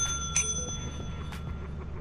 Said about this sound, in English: go ring that bell